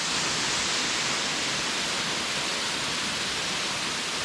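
A waterfall in Snowdonia, Wales, roars as a steady, dense rush of falling water that stays constant and fairly loud throughout, with no voices over it.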